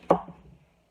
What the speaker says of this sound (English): we're chopping up the onions now